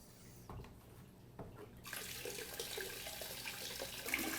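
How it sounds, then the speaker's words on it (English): Water from an RO water canister draining into a bucket: a few faint clunks, then a steady pouring splash starts and runs on continuously, close and moderately loud, with no talk. "right now we are draining some water from our RO water canister into our bucket"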